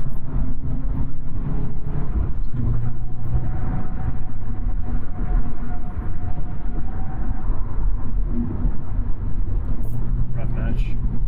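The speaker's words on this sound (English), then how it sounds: "the most common thing you do is a rev-match downshift." A manual-transmission car's engine drones loudly and steadily from inside the cabin on the road, with low harmonic tones shifting slightly as revs change during rev-matched downshifts, no voices heard.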